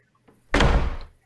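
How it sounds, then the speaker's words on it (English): A door shuts with a single solid thump after a faint click, close and heavy in a radio drama sound effect, with a short decaying tail. "Close the door, Stewart."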